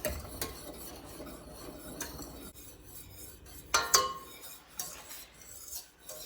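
A spoon scrapes and clinks around a pot of boiling homemade grape jelly, with intermittent close metallic taps and scrapes over a quiet bubbling background and no talking.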